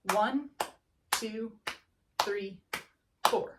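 A group claps an eighth-note rhythm while a voice counts the quarter-note beat aloud, sharp broadband claps alternating with spoken numbers at a steady, even pulse, close and clear.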